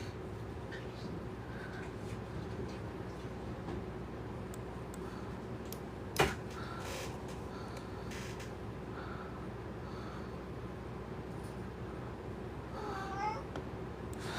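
Small kittens meowing indoors, with a few faint high mews rising over a steady background hum, mostly near the end, beside a single sharp click.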